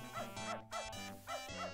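A dog in the video game Beneath a Steel Sky gives a few short barks mixed with whimpers and yips, each call quick and rising, separated by brief gaps.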